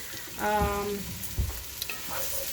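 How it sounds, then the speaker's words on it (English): Finely chopped scarlet gourd (dondakaya) fries in hot oil in a pan, a soft steady sizzle with a few stirring knocks and scrapes close by. "so we have cut it finely and we put it in the oil"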